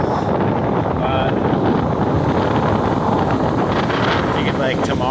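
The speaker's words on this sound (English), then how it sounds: "So I think it's like still like 15 miles an hour wind right now." Strong wind sweeps across Rosarito Beach in Mexico by a choppy sea, a loud, steady, buffeting roar that fills the whole stretch with no break.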